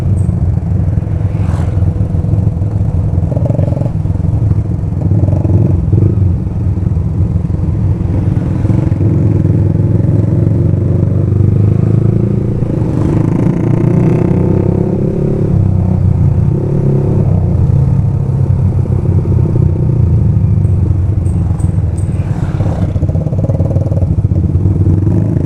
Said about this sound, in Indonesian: Ya ini bertiga knalpotnya pada bacot semua.